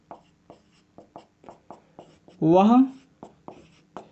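Chalk or marker writing on a board during a physics lecture on lenses, a steady run of short taps and strokes at an even rhythm, with a brief spoken word in the middle.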